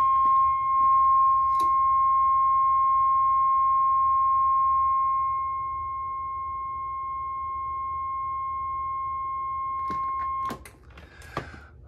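A steady 1 kHz reference test tone plays alone and evenly for about ten seconds, then cuts off, followed by a few faint clicks and rustles.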